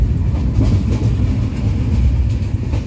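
A passenger train running on rails makes a loud, steady low rumble with faint rhythmic clatter, heard up close throughout with no voices.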